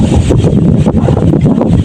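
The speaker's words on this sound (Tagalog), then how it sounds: "Sobrang lakas ng hangin." Strong wind gusting steadily against the microphone in a Philippine coastal setting near bamboo and a boat, a loud continuous roar with rumbling low buffeting and no voices.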